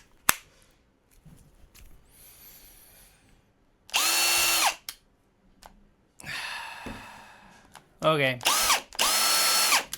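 A repaired 13-year-old Milwaukee cordless drill is run in several loud whirring bursts, each spinning up and cutting off, with brief quiet talk and handling noises between them.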